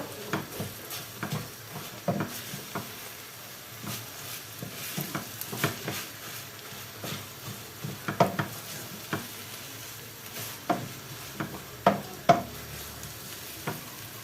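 Onions frying for pilaf in a pot, with a quiet background sizzle broken by irregular scraping and clanking strokes of a spoon stirring against the metal.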